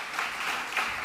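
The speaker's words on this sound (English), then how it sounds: "A round of applause, please." Brief burst of audience applause at the Playground Stage of South Summit 22, a soft wash of clapping from a seated crowd lasting about a second.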